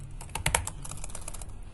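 Rapid, close clicking of fingers typing on a computer keyboard, a steady run of light keystrokes with a couple of louder taps near the start.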